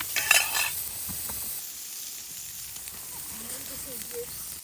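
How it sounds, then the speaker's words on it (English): Frozen hamburgers hit a grill over an oak firewood fire in a Wolfe Ridge smokeless fire pit, giving a soft, steady sizzle and hiss with a brief brighter crackle near the start and faint voices in the background. "go ahead and throw the hamburgers on the grill just to kind of test and see how hot it is"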